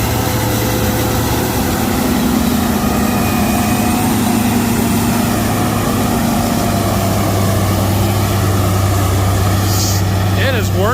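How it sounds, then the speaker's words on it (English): An 800-horsepower forage harvester chopping corn silage in a field: a loud, continuous engine roar with a churning drone that holds steady throughout, and a voice talks over it. "Working that chopper. That is 800 horsepower, and it is all it's got to chop that corn."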